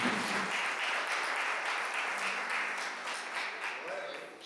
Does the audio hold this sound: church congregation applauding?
yes